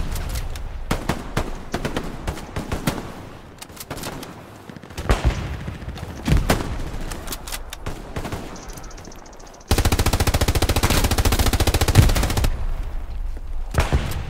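Rapid machine-gun bursts in a video game, the shooter laying fire down a line, come in repeated volleys of sharp cracks, then a dense sustained stretch of continuous loud firing near the end.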